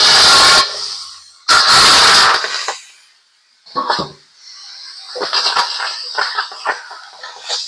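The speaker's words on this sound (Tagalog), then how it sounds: "yung manok guys, igisa muna natin." Two loud bursts of sizzling hiss as chicken hits a hot pan, followed by quieter sizzling and light clattering of utensils.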